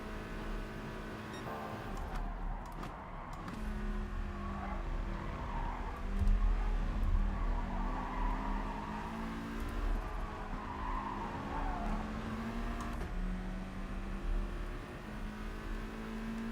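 A Bugatti Veyron in GT Sport, its engine note rising and falling through revs alongside some tyre squeal, sustained and fairly close with no talk over it.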